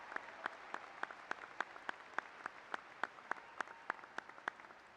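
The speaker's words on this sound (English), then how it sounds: "Let's give this outstanding group of students a round of applause." Scattered, sparse clapping from a high school graduation crowd, individual claps popping out irregularly over a soft background, moderately distant.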